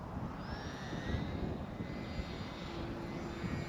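A radio-controlled powered glider climbing under motor power outdoors, giving a steady whining drone with rising tones over wind noise and no speech.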